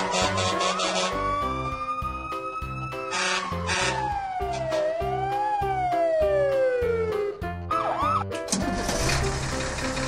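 A fire truck siren wails loudly, its tone climbing and falling in long sweeping glides, broken by sharp horn-like blasts and ending in a rough burst of broadband noise.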